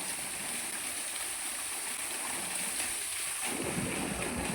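Borewell pump water pouring steadily into a well outdoors, a constant rushing splash heard from a moderate distance that thickens in the last second, with no talking.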